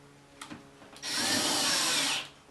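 Power driver spins small metal screws back into nylon bushings on a Sequoia rear door latch, a short whine of about a second after a couple of faint taps, close by and fairly loud.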